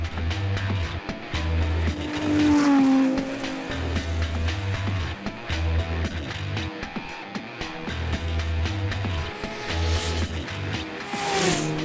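A highly modified Nissan GT-R race car with over 1,000 horsepower climbs a narrow hillclimb road, its engine rising and falling through repeated gear changes, loud and passing close by.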